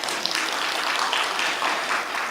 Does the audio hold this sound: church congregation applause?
yes